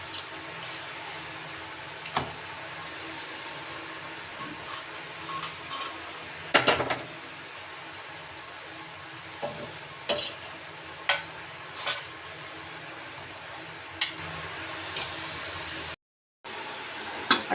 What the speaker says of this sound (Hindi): ड्राई सब्जी बन रही है, देखो ड्राइज। आज हमारे यहाँ बना घिया की सब्जी।